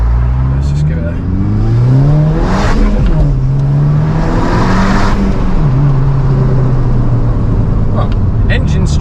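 Seat Leon Cupra engine revving hard as the car accelerates along a narrow single-track road, loud and close, pitch climbing through gear changes with a brief dip between pulls.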